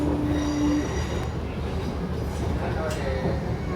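A Delhi Metro Green Line train runs toward Bahadurgarh with a continuous loud rumble, wheel noise and a brief high squeal early on, heard from inside the car.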